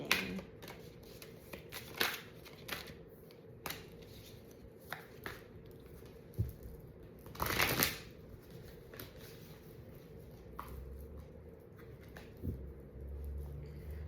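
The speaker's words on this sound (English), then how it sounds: "I do like to also shuffle once I get on camera as well." Tarot cards being shuffled and riffled close by, a long run of crisp papery flicks and soft slaps coming in irregular bursts, with no talking.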